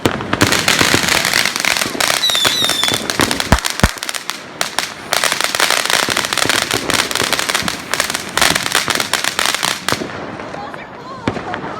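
Fourth of July fireworks burst and crackle continuously behind trees, dense rapid pops layered with louder booms and whistles, with people talking and reacting over the din.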